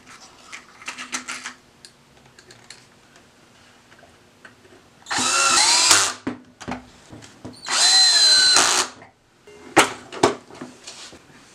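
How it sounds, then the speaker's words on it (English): A cordless drill with a clutch whirs in two loud bursts of about a second each, rising in pitch as pocket screws drive in using a Kreg Pocket Hole Jig 320, with quiet clicks and handling sounds between. "I like to use my cordless drill to drive pocket screws because it has a clutch."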